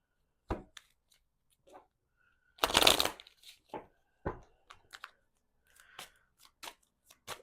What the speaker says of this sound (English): Let's see in the hidden truth oracle deck here. I'm just gonna shuffle a bit.